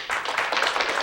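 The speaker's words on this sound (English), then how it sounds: "if you want to give a nice little clap to Sharon Weber" Audience members at a talk clap for the speaker Sharon Weber in a short burst of brisk, overlapping claps that lasts about a second.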